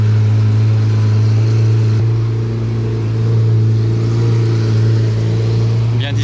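A supercar engine, Lamborghini SV or McLaren SLR Roadster, rumbles loud and near with a steady low drone and slight swells, ending in a brief sharper clatter; a voice talks faintly underneath.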